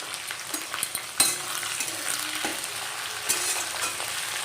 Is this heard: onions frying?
yes